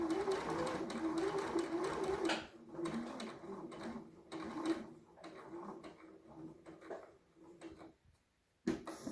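A sewing machine stitches a four-step buttonhole on a dress or blouse, with a quiet, fast rattling run for the first couple of seconds, then softer intermittent stitching and faint clicks, with a brief silence near the end.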